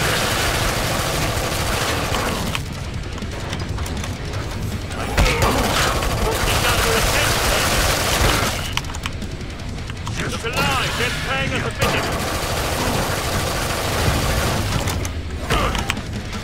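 Heavy gunfire and mechanical weapon clatter in the video game Killing Floor 2, dense continuous bursts with booms and ratcheting sounds, loud and close, with a voice talking over it.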